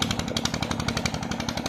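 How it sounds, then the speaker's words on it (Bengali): A jute-laden trading boat on the Jamuna river chugs past, its engine a rapid, rough, steady pulsing drone heard close and continuous. "আরেকটা নৌকা যাচ্ছে, ব্যবসায়ীদের নৌকা,"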